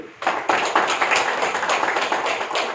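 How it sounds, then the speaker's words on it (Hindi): An audience at a spiritual discourse breaks into clapping, a dense, loud burst of many hands that starts abruptly and carries on steadily, heard close with no voices over it. "ताली तो बजाओ।"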